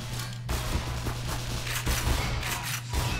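Shotgun and double-barrel blasts in the game Black Mesa fire in rapid, dense succession over a constant low hum, loud and continuous with no clear gaps.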